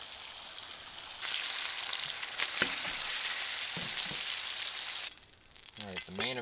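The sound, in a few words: bacon frying in a pan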